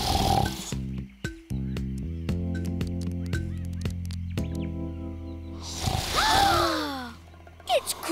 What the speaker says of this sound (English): It's Crocky snoring!